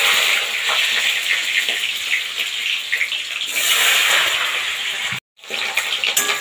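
Whole spices and bay leaf crackle in hot oil, then chopped onion goes in; a loud, steady, close sizzle fills the pan, briefly cut off once near the end before resuming.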